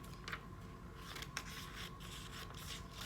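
Scissors snipping through paper in a classroom craft demonstration, quiet close scraping cuts with a few sharper snips, no talking.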